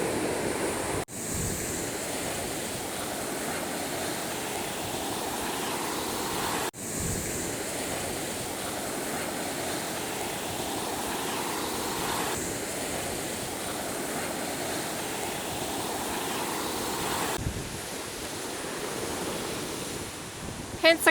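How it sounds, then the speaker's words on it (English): Surf from the Gulf of Mexico rolls and breaks steadily along a Florida beach near Fort Pickens and Pensacola Beach, a continuous wash of water with occasional louder crashes and some wind, no voices. "to my right is the beautiful Gulf of Mexico"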